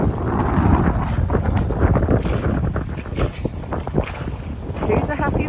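A sailboat under way with both sails up and its engine running, a steady rushing of wind and water with buffeting noise and a low engine drone throughout.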